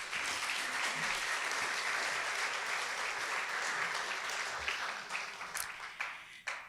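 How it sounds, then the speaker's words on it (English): Steady applause from an audience at the 2019 Seniors Who Rock event, dense clapping held for several seconds before thinning out into a few scattered claps at the end. "Let's give them also a round of applause."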